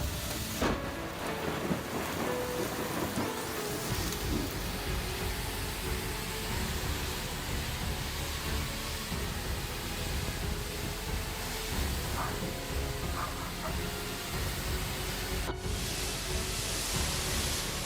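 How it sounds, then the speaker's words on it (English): Heavy rain and strong hurricane-force wind in a storm roar as a dense, steady wash of noise that stays loud throughout, with occasional thumps and gusts and no talk. "The wind was as strong as a hurricane, the rain was pouring down"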